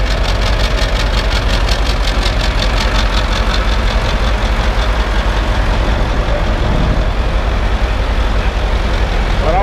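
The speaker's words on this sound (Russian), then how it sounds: "Мотоцикл с кетовским движком" Eight-cylinder CAT diesel fitted to a three-wheeled motorcycle idles loudly and steadily nearby, a dense continuous rumble with a regular pulsing throb, no voices over it.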